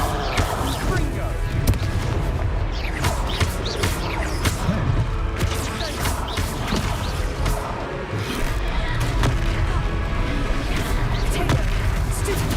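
Confringo blasting spells explode during a fight in Hogwarts Legacy, a steady run of booming impacts and crashes layered over continuous, dense combat noise with no letup.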